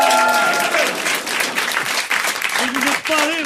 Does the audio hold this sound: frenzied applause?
yes